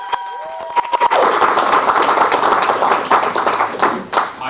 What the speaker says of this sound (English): please give a round of applause for my wonderful girlfriend who is in the crowd tonight